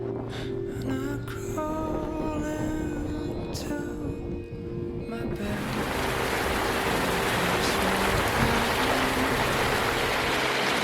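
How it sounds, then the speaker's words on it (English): Heavy rain arrives on a small boat at anchor and builds into a steady, loud broadband hiss, following a stretch of strong wind gusts and engine hum with a few voices. "then along came the rain"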